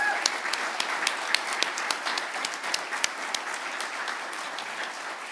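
Steady applause from a large crowd, dense clapping sustained throughout with a few sharper individual claps standing out.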